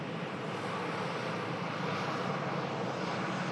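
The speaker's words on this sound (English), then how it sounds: "We'll capture this Emirates Mitsubishi Challenger. Touching down." Emirates jet touching down on a runway, a steady broad roar of engine and rushing air at moderate distance, continuous with no distinct breaks.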